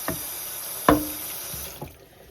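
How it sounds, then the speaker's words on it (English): Cold water from a kitchen tap runs over cooked noodles, giving a steady hiss broken by a few soft knocks and splashes, close and without talk. "We're just running some cold water through them to stop them from cooking."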